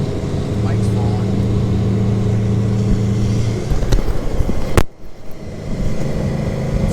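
A Porsche 912 engine drones steadily while driving on a mountain road, loud and close from inside the car with the windows down. A voice talks over the hum before a brief sharp bump and a quieter stretch.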